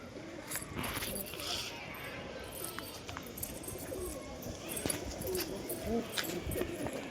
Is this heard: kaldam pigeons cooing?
yes